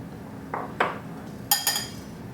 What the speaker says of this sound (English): we're going to whisk together our dry ingredients